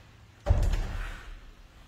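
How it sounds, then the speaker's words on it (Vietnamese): A door being closed and opened: one sudden thud near the middle, then a rattling, decaying rumble as it settles, fairly close in a quiet room with no talking. "Cửa đóng vào, mở."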